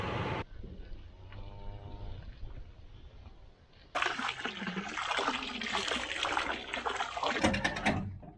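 Water runs into a calves' trough on a farm, a soft steady trickle that swells into a louder rushing pour partway through, with a calf lowing nearby near the start.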